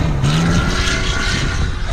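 A short wheelbase rally car drives past on an ice track in Sweden, its engine a loud steady droning roar close by, with a faint shift in pitch as it passes.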